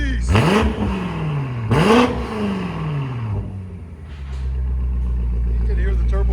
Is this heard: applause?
no